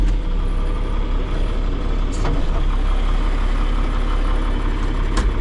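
A two-wheel drive farm tractor engine runs steadily at a low, rumbling idle, loud and close, with a couple of faint higher clanks.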